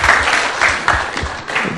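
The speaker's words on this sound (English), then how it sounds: "big round of applause" Audience applause at a startup talk, a short loud burst of clapping that rises and falls unevenly for under two seconds.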